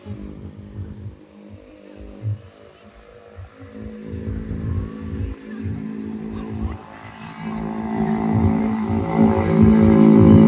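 A road vehicle draws closer, its low engine rumble swelling steadily toward the end, with people talking nearby throughout.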